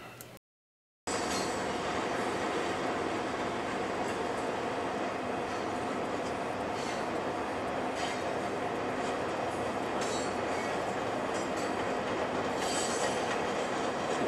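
A train rumbles steadily along the tracks with rhythmic clacking and occasional wheel squeals, loud and continuous after a brief silence at the start.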